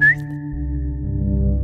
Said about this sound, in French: Anastasia siffla.